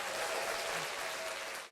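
Studio audience applause during an interview show, a sustained wash of many hands clapping at fairly low level that fades out abruptly at the end.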